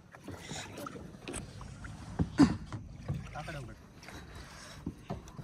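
A kayak is paddled through mangroves at Delta Point Beach, Kodi Bengre, Udupi, with irregular splashing paddle strokes and water movement close by, while people talk intermittently.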